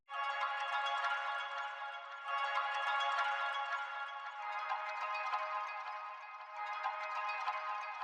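A sampled melodic phrase, pitched five semitones down in FL Studio for a beat, plays as a bright, bell-like tone held over several seconds, swelling in short sections, quiet and without any voice.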